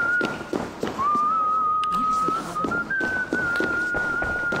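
Police whistle in Assassin's Creed Valhalla sounding as one long continuous shrill tone that wavers and rises slightly, heard over game ambience and someone talking.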